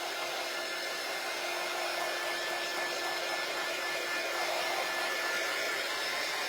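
A hair dryer blows steadily on freshly colored craft pieces, a continuous airy whir with a faint high whine, close and even throughout with no talking.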